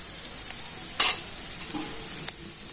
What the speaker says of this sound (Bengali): তো আদা কাঁচা লঙ্কা তো আমি একটু হালকা করে ভেজে নিচ্ছি